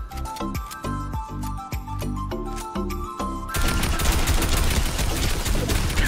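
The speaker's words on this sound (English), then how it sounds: "Dang, them shots sound so close." Rapid gunshots ring out in the video game Fortnite, first as a string of sharp, separate cracks with ringing tails, then a dense, loud burst of sustained fire, close and with no talking.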